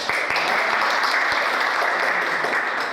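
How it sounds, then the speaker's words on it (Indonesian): Applause from a class group after presenting a traffic-light simulation project, steady dense clapping throughout, fairly close and loud, with no speech over it. "kasih aplaus untuk kelompok 5"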